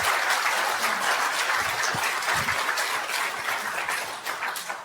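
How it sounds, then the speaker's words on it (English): An indoor audience at a talk on family violence claps in a steady, dense round of applause that holds for several seconds with no voices over it. "Let's give her a round of applause before we do questions."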